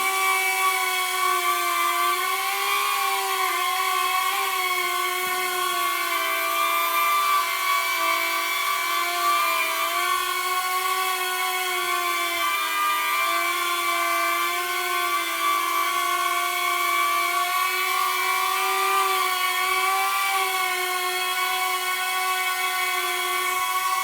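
A DJI drone fitted with Master Airscrew propellers and no prop guards hovers at a steady distance, producing a continuous high-pitched, multi-toned whine with slightly wavering pitch, loud and unbroken for the whole stretch, with no talking.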